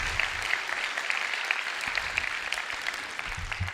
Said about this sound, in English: Give a quick round of applause for our stage crew and all the work that they've done.